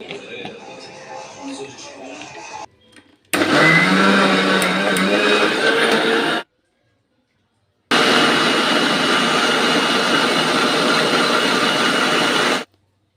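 A kitchen mixer grinder blends apple, banana, milk and ice cubes into a summer milkshake, running loud in two long bursts with a short pause between, after softer talk at the start.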